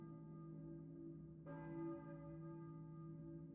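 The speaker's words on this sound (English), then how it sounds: "I hear a church bell, maybe?" A church bell in the game Silent Hill (PS1) strikes once, and its resonant tone swells over an existing low hum, then slowly fades. It sounds distant and fairly faint.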